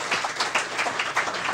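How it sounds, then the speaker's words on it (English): An indoor audience applauds with a brief, steady patter of many hands clapping. "Can we give them another round of applause,"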